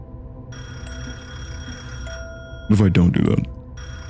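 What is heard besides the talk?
telephone ringing in a video game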